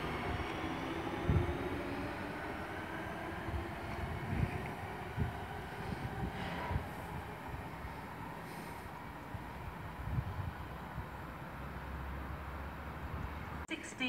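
A passenger train arriving at a Birmingham station platform, a low, steady rumble of rolling wheels and motors carrying a faint squeal under a station announcement and platform chatter.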